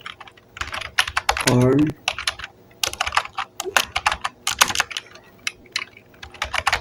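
Rapid bursts of computer keyboard typing, loud and close, in uneven clusters of clicks, with someone briefly speaking between the keystrokes.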